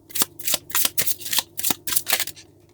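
Tarot cards being shuffled close up in a rapid series of crisp riffling flutters, about a dozen quick bursts in steady rhythm, with no talking.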